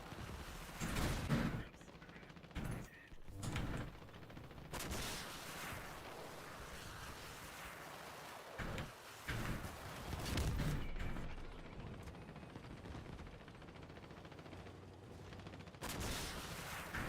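Bursts of gunfire and clanking mechanical weapon noise from armored vehicles battling in the game Crossout, coming in loud irregular volleys with a voice speaking intermittently over them.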